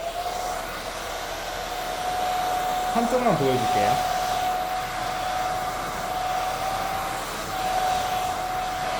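A hair dryer heats hair during styling with a steady whirring hum throughout, while someone speaks briefly in Korean over it near the middle.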